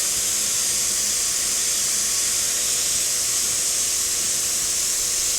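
Continuous close airbrush hiss spraying paint, a steady even rush of air with no pauses or talking.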